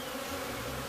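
Honeybees working around beehives make a dense, steady buzzing drone, close and continuous for under a second, with no voices.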